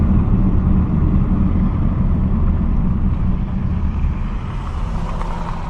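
Steady low rumble of a 2023 Mazda 3 Sport cruising at speed, engine drone blended with road and tire noise, continuous and close from inside the cabin, with no talking.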